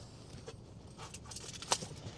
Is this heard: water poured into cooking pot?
no